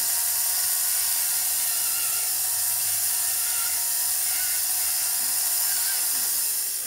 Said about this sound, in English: Rotary files can catch. So I'm really supporting my flex shaft handle with by leaning it up against my other hand.